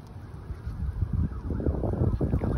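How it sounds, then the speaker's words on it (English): Gusty outdoor wind buffets the microphone on a blustery day, rising from a soft rush into stronger low gusts that build toward the end. "It's a windy day today."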